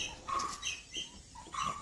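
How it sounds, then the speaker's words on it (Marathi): A coppersmith barbet (tambat) calls with a few faint, evenly spaced notes, soft and somewhat distant, with no voices present. "कोकिळेसोबत तांबटाचाही आवाज कानावर आदळतो"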